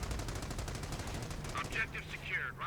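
MG42 machine gun fire from the video game Company of Heroes, with rapid, evenly spaced bursts rattling at low volume and a few short high tones in the second half.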